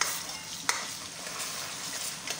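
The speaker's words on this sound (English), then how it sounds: "I'm going to let it fry" Tomato paste frying in a pot for egusi soup gives a steady soft sizzle, with a few brief stirring scrapes standing out over the hiss.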